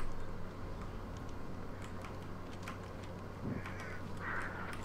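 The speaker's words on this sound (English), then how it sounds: "Shut up, crows." Crows in a video game give several scattered caws, fairly faint over a constant low background hum.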